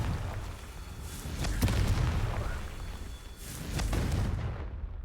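Confringo fire spells blast in Hogwarts Legacy during a Merlin Trial, two rumbling explosive bursts with crackling debris over a continuous low game soundscape, fairly loud.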